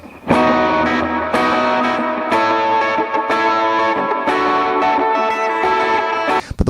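Electric guitar played through a multi-effects processor preset heavy with delay and reverb and a touch of distortion, ringing sustained chords and notes that wash together in a continuous, loud, effect-laden tone with no talking.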